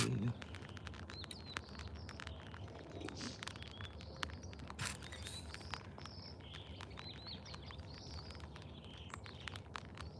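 Birds chirp outdoors before rain, giving short, repeated high tweets scattered through a faint, steady background hiss.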